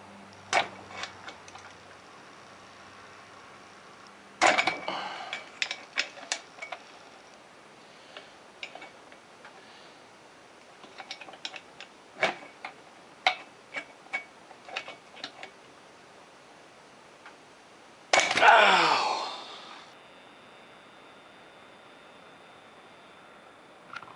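Ratchet clicks and a torque wrench tightening a nut on a Polaris 400 engine during a rebuild, heard as scattered sharp metallic ticks and taps up close, with one louder rasping burst near the end.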